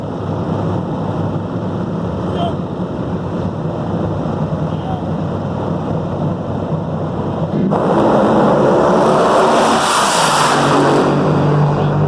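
NHRA funny cars, a Schumacher Dodge and a Coletta Toyota, racing at Norwalk, Ohio in 2019. A steady, loud engine roar builds into a heavier, fuller blast partway through.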